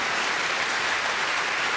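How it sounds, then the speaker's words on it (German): An audience at a beer-carrying world record event claps steadily. The applause is dense and even, with no voices over it. "Bitte klatschen Sie für diesen Mann."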